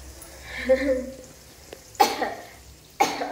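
A person coughs twice, sharp and close, a second apart, after some soft murmured talk.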